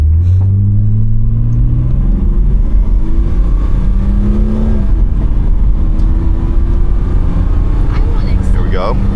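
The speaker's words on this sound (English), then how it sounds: "let's accelerate as fast as we can right now." A BMW E12 528i engine revs up hard from 0 to 60, its pitch climbing through several gear changes, loud and close with heavy low rumble and some talking over it.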